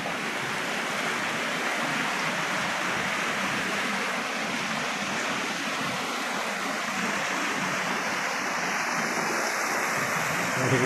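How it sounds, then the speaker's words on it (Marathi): Heavy monsoon rain pours at the Gupt Ling shrine near Shikhar Shingnapur, a continuous roaring wash of falling rain and rushing water that stays loud and steady throughout. "धोधो पाऊस चालू"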